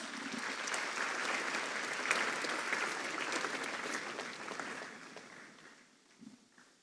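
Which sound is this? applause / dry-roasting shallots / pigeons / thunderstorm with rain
applause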